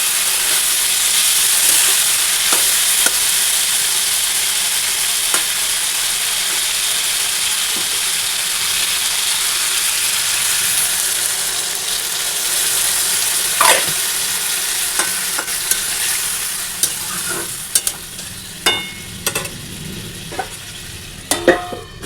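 Dalia cooks in a covered wok, giving a continuous loud steamy hiss and bubbling sizzle, with occasional sharp clinks and knocks of a utensil or lid growing more frequent toward the end.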